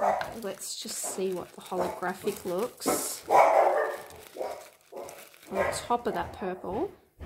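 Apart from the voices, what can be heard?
dog barking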